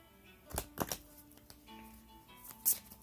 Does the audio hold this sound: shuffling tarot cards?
yes